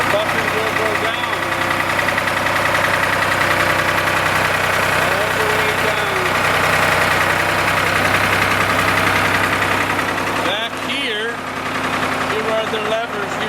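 A truck's engine idles loudly and steadily while its backhoe bucket is lowered. A mechanical shift and some knocking come near the end.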